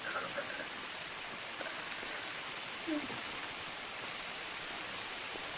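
Steady rain falls in a role-play video game, a continuous even hiss with only a few faint blips and no clear talk.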